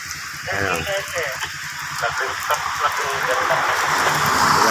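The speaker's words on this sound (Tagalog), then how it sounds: "Ulan talaga." Rain hisses steadily, growing heavier toward the end, while a person talks over it close by.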